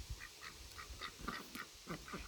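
Large, white domesticated ducks with broad faces quack quietly in a rapid, uneven series of short calls, nearby and with no talking.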